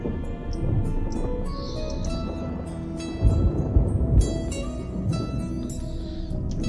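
A thunderstorm rolls through the Sea of Thieves game world, with steady rain and deep rumbling thunder that swells in the middle, while faint tones and small chimes sound over the top.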